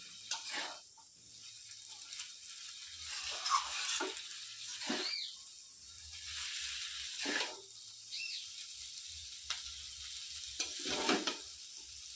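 Veg chowmein noodles being stir-fried with vegetables in a home kitchen: scraping, clattering stirs and a steady sizzle recur in bursts throughout, close and moderately loud with no talking.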